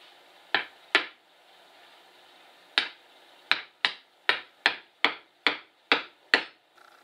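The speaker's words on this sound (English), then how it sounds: "we're just going to hammer it on home" Sharp metallic hammer blows ring out as a brake drum hub is driven onto a Chevy C30 rear axle, two early strikes, then a steady run of eight evenly spaced hits, close and loud.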